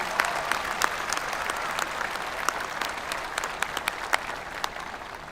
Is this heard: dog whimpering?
no